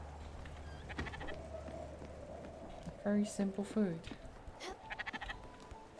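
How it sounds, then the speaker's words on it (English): A sheep in the video game Spiritfarer bleats several times in wavering calls midway through, heard over quiet background music, with a person talking briefly before the bleats. "Where's the other sheep?"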